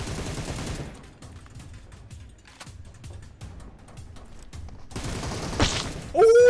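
Gunfire in the mobile shooter PUBG Mobile on the Sanhok map: a loud rushing burst opens, then a run of sharp, irregular shots rattles off at moderate distance before another loud noisy swell closes.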